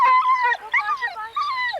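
Trail hounds and pups baying while following an aniseed trail in the English countryside, a continuous chorus of overlapping high, drawn-out howls and yelps, fairly close and loud, with no talk.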